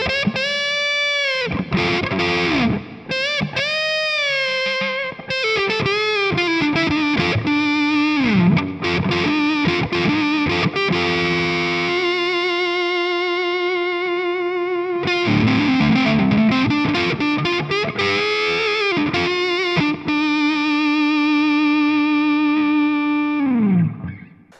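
An electric guitar with P90 pickups plays through a Vox Night Train valve head, loud overdriven chords and sustained notes with bends and slides, ringing out alone for over twenty seconds.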